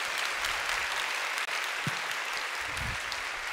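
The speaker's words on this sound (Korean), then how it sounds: "목사님 나오실 때 환영하는 의미에서 감사하는 마음으로 박수로 맞이하겠습니다" A church congregation at a Sunday worship service claps to welcome a pastor to the stage, a full, even wash of applause filling the room throughout.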